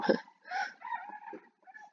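Morning crowing of a rooster, a fairly faint, somewhat distant call with a few broken segments over quiet background.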